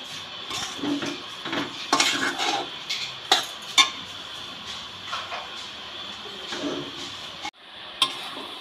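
Grated coconut mixed with jaggery stirred constantly in a pan: rhythmic scraping strokes and occasional sharp clinks of the utensil against metal over a faint sizzle, close and uneven.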